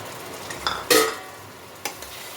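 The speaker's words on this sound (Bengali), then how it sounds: "মশলাটা ভালো মতো ভেজে নিতে হবে" Ginger-garlic paste frying with tomato paste in a pan for a prawn dish: a soft, steady sizzle with a few sharp spatula scrapes and clinks against the pan, one louder stir near the middle, no talking.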